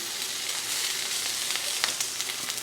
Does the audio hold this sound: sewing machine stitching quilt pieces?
no